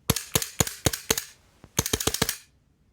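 Tokyo Marui Glock airsoft gas blowback pistol firing a string of about ten sharp, loud shots close by, five evenly spaced, a brief pause, then a faster burst of five or six with no talking.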